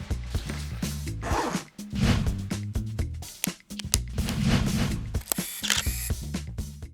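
Zippers on a camera bag are pulled open in several quick, close rasping runs, mixed with handling rubs and clicks from the camera gear, with no talking.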